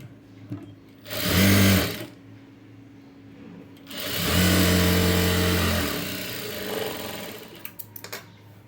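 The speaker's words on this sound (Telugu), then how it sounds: "ఇలాగా మళ్ళీ క్లోజ్ చేసుకుని ఇంకో స్టిచ్ వేసేయండి." A sewing machine top stitches fabric in two loud, steady whirring runs, a short one and then a longer one, with brief pauses and light handling clicks between them.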